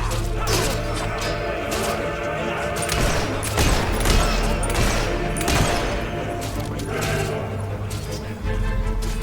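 Dense, continuous gunfire in the Fable 3 video game, a loud battle fusillade of overlapping rifle shots and crashes with a steady low rumble beneath.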